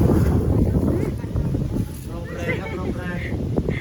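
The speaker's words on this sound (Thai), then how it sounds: "ตกใจเสียงลม" Strong wind gusts roar across the microphone outdoors near water and a boat, with someone speaking over the steady buffeting.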